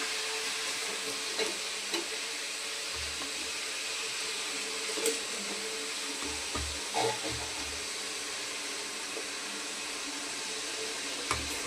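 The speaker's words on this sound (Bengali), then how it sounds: "এবার তেলের মধ্যে আমি গোটা জিরে দিয়ে দিচ্ছি, তারপর দিয়ে দিচ্ছি পেঁয়াজটা" Onions and whole cumin seeds fry in hot oil for mutton biryani, giving a steady faint sizzle with occasional soft stirring knocks and low thuds throughout, no voices.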